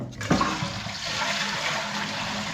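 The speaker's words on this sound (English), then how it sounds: "Give it a flush, Jacob, when I got my hand in here." A household toilet being flushed during a plumber's inspection of a dry flush pipe, a sudden close rush of water that keeps roaring steadily throughout, with no talk.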